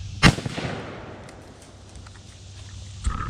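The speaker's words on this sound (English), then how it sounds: "I'm gonna shoot the target down there at 40 yards" A single sharp Benelli Super Black Eagle shotgun blast fired outdoors at a target 40 yards away with a modified choke, loud and close, followed by a fading rumble, quiet background and a faint thump near the end.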